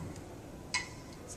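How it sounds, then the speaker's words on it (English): A metronome click on the off beat, a single crisp, quiet tick standing out from a soft, hushed background. "Another great metronome game is to put the metronome on the off beat."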